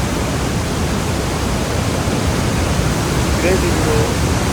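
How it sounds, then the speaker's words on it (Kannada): Water plunging down from a waterfall near Mana village by Badrinath, a dense, loud, unbroken roar filling the whole moment with no pauses. "ಕೆಳಗಡೆ ಧುಮುಕ್ತಾ ಇರೋದು ನೀರು"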